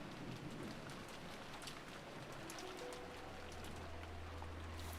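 Steady rain falls in the Umineko visual novel game, a soft, even hiss of drops with a faint low rumble underneath, continuous and fairly quiet throughout.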